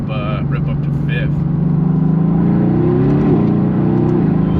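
A car engine pulls hard up a canyon hill, its loud droning note rising steadily in pitch as it climbs through the gears toward fifth, with a person talking over it.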